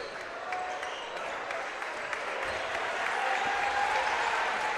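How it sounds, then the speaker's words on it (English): Fans clapping in a high school basketball gym at the end of a game, a steady wash of applause and crowd noise that swells slightly toward the end. "Fans are clapping."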